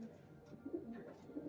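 Pigeons of the Kaldum breed with red markings coo softly in a low, murmuring rhythm, faint and steady with a few slightly louder swells.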